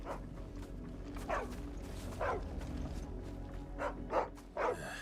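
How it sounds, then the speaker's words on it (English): Several short dog barks and yips from a brown-and-white dog in the video game Final Fantasy XVI, spaced irregularly over a steady low ambient hum, moderately close. "Maybe it's a dog."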